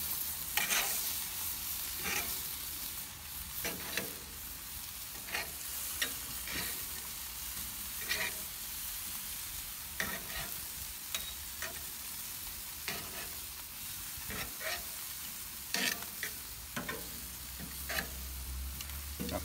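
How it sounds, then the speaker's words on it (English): Chicken sizzles steadily on a grill after being flipped, a close, continuous crackling hiss broken by scattered sharp ticks and clicks of tongs and grate. "All right, these have been on for a little bit. I'm gonna flip them now"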